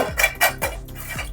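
Crispy fried finger samosas clatter against a metal pan in a home kitchen, four sharp rattling knocks in quick succession, close and fairly loud, with no talking.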